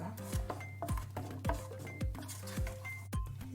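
A utensil repeatedly pressing and scraping lumps in a pan while making apple peda, rhythmic knocks and scrapes about every half second with small metallic clinks, close and without talk.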